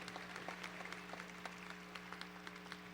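Faint applause for high school student athletes at a school district signing day event, soft scattered clapping heard at a distance over a steady electrical hum, with no voices.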